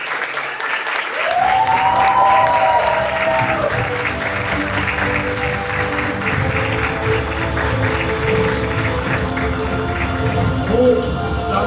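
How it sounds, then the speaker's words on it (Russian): Audience applause at a college award ceremony: a steady, dense wash of clapping from a large crowd that lasts throughout, loud and close, with some speech underneath. "Под ваши аплодисменты."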